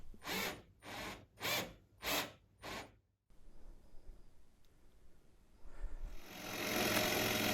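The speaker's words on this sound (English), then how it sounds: "I then used a tapping bit in my hand drill to drill the threads for the posts of the bridge" A hand drill with a tapping bit whirs in five short, even bursts while threading guitar bridge post holes. Broader grinding and rising machine noise follow.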